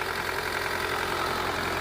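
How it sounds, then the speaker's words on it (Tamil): A Mahindra Renault Logan car engine idles after repair work in a mechanic's garage, a steady, even running hum with a faint rhythmic knock, continuous and close with no talk. "இன்ஜின் ஒர்க் பண்ணி வண்டி ஸ்டார்ட் ஆகி ஓடிட்டு இருக்குங்க. இன்ஜின் ரன்னிங்கில் இருக்குது."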